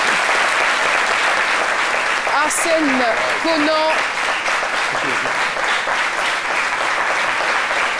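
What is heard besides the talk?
audience applause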